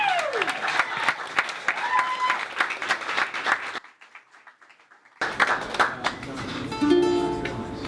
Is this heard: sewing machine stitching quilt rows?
no